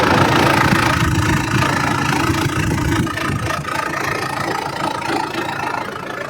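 A Mitsubishi Pajero SFX's 2.8-litre (2800 cc) diesel engine from a 2012 BS3 model idles with the bonnet open, a loud, steady low rumble with an even knocking rhythm, heard close up and alone.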